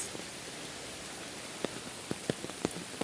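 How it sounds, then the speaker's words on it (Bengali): Rain falls as a soft, even hiss with scattered louder drops tapping near by, faint overall and without voices. "আজকে দুই দিন লাগে বৃষ্টি হইতে আছে"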